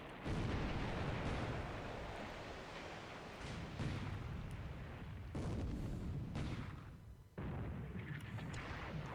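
Repeated naval gunfire in a WWII naval war game set in February 1942, with 5-inch guns firing among 25 mm rounds: loud, continuous booming barrages and bursts that roll into one another, with a brief drop near the end.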